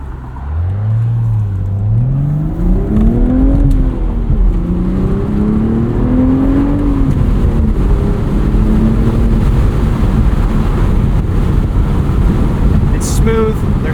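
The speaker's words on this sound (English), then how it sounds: "For a turbocharged motor, the response here is just awesome." A turbocharged 2025 BMW Z4 M40i with a six-speed manual pulls hard: the engine note climbs steadily, dips briefly at a gear change, then rises again. It stays loud and close throughout, with no talking.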